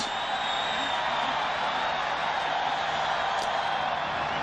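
Braves home crowd at the 1996 World Series Game 5 against the Yankees, roaring for a John Smoltz strikeout. Cheering holds steady and loud throughout, with a brief sharp whistle or shout cutting through near the end.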